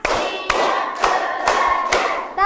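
A school class plays a clapping concentration game, giving about five loud, sharp, evenly spaced group claps with a short voiced sound at the end.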